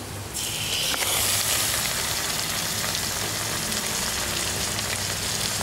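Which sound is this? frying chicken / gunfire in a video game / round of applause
frying chicken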